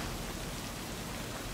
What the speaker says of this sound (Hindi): बारिश भी हो रही है, बहुत ठंडा मौसम हो गया है।